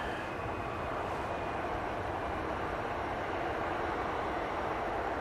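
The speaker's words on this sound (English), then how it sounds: "We've got the SAS that's just touching down." An SAS Airbus A320neo touches down at Manchester Airport, a steady broad roar of jet engine and rolling noise that holds loud and even throughout, with no voices.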